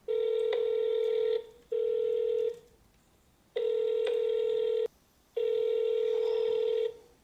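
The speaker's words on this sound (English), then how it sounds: "Let me call them right now" A phone call is being placed to a freight broker: long steady ringback tones repeat in a regular on-off cadence, loud and clear, with no talking over them.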